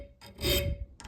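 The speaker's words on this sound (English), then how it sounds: "The files just go right through them like butter." A hand file makes a single short rasping stroke across the choil of a soft wrought iron knife blade forged from an old horseshoe, close and clear.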